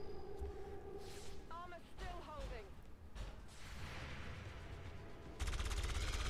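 Gunfire from shredder guns in the video game XCOM 2, with bursts of weapon fire, whooshing projectiles and sweeping effects, ending in a dense loud burst, all under steady game sound.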